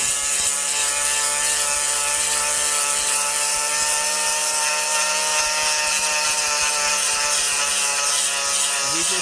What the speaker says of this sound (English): he's just taking that old dead wood, grinding it away